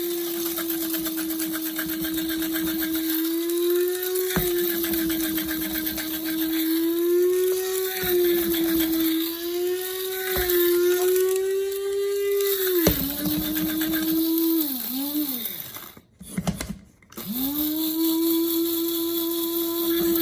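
An electric blade grinder chops coffee beans for French press in a long, steady motorized whir lasting many seconds, shifting pitch slightly as the beans break up, briefly cutting out near the end before starting again.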